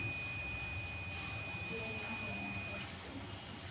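Multimeter in continuity mode, its two probes touched across the fuses of a Pulsar 135 LS BS3 motorcycle, giving a steady high-pitched electronic beep that holds for about three seconds before cutting off, with low room noise underneath.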